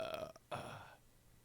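A single short, throaty burp rumbles up loud and close, trailing off quickly into quiet.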